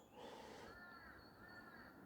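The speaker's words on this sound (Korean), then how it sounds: "와, 딱따구리 새소리 들리고요." Birds calling in a forest on a hillside behind an apartment complex, one crow-like cawing call standing out over a steady wash of ambient noise, fairly near and moderately loud.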